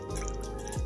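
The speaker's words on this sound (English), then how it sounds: "You're easily going to pour the hot water" Hot water is poured from a kettle into a candle jar, giving a brief, close, gurgling trickle with a rising fill tone near the end, no talking over it.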